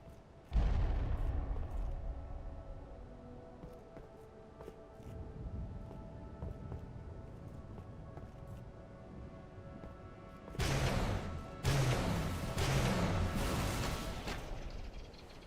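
A fuel rod gun fires in Halo 3 with a loud booming blast, a rumbling tail that fades, then a second cluster of heavy explosive bursts later on, with no voices.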